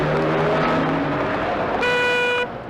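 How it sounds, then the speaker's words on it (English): Road traffic rushes past loudly and continuously, with car engines droning and a sustained horn blast sounding near the end before the noise drops off. "traffic."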